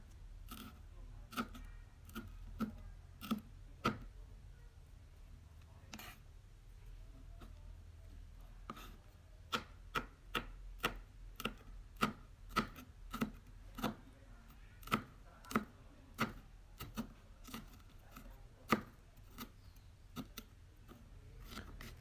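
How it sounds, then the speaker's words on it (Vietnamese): A knife cuts two chili peppers on a board while a dipping sauce for rice noodles is prepared, giving quiet, steady taps in uneven runs that speed up into a brisk rhythm. "Mình sẽ cắt hai quả ớt này ra."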